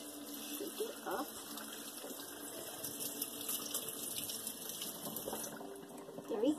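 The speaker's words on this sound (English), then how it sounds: "Add a little water into it so you can shake it up." Water from a tap running into a plastic body wash container, a steady faint splashing trickle that continues throughout.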